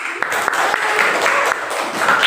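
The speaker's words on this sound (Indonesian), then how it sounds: "Kita berikan tepuk tangan." Brief clapping from a small group in a classroom during a teaching exam, a few distinct claps rising into a short burst with voices murmuring underneath.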